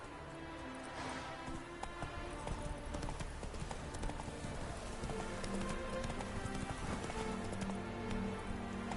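Horse hooves galloping in the video game The Witcher 3, a continuous rapid clip-clop rhythm running steadily through the whole clip over a dense background of ambient game sound.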